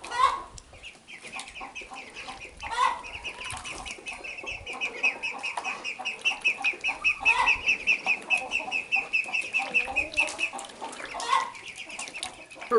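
Chickens and ducks cluck and call together in a yard, one bird holding a long, even run of rapid notes across the middle while others break in with sharp, scattered squawks close by.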